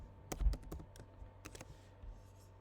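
Keys tapped on a computer keyboard while a password is entered into a web login, a short run of about eight quick, close clicks in an irregular rhythm, then a few more taps before stopping, over a faint steady room hum.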